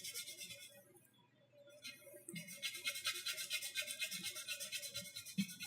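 A worn sanding sponge, once around 150 grit, is rubbed back and forth in quick, even strokes, a close, faint rhythmic rasping after a brief pause.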